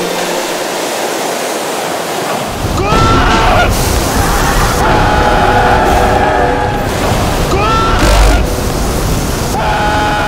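Ocean waves at a scenic coastal lookout surge and crash in a loud, continuous roar, with broad washes of surf swelling every few seconds.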